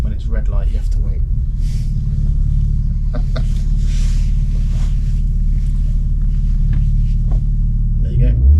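A supercar engine pulls in second gear past traffic lights, a deep steady rumble running strong and close throughout, with brief voices heard over it.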